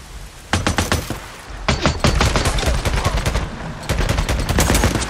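Rapid bursts of gunfire in the zombie survival video game Days Gone, sharp loud cracks firing in quick clusters with brief pauses between volleys.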